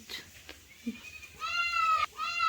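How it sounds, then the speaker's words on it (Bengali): Goats bleat loudly in two long, wavering calls close by during rain, preceded by faint background sounds. "ছাগলগুলো প্রচুর ডাকছে বৃষ্টির জন্য।"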